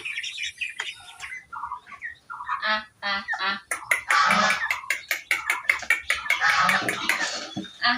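Growing ducklings call in bursts of honking quacks and peeps, some close and loud, in an uneven clamour that thickens in the second half.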